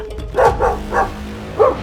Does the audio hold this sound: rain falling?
no